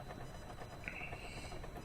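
Train in the Comanche Gold helicopter game, heard as a steady low rumbling rail noise with a faint hiss, continuous and moderately distant throughout.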